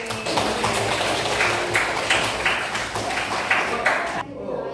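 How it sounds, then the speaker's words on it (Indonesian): A classroom of students claps for a group of classmates, a dense, steady patter of hands running for several seconds before stopping abruptly, with voices murmuring underneath. "Beri tepuk tangan untuk kelompok ini."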